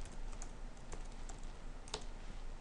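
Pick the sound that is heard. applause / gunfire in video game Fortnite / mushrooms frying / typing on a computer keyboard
typing on a computer keyboard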